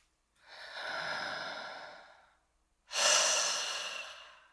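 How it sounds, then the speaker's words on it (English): Breathing exercise in a singing lesson: two deep breaths drawn high into the chest, the first a long soft airy breath and the second a sharper, louder rush of air after a brief pause, close-miked with no speech. "Now breathe high into your chest first and feel the difference."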